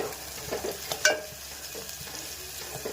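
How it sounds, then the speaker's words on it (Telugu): Garlic and turmeric are stirred in a frying pan for a bean curry, with a soft sizzle under scattered scraping and clicking of a spoon against the pan, one sharper clink standing out. "కొంచెం పసుపు వేసాక కలుపుకోవాలి బాగా"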